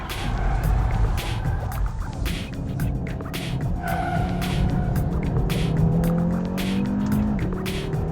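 An Audi RS3 driven hard on a race track, its engine roaring close by with pitch sweeps through the gears and tires squealing through corners, with no talking over it.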